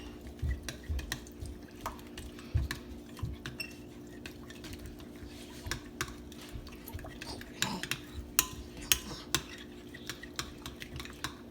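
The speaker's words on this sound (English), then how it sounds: "And then you just mix it together until it's all smoothly mixed." A spoon stirs vegan, gluten-free ice cream ingredients in a bowl, with irregular light clinks and scrapes against the dish, growing busier toward the end over a quiet kitchen background.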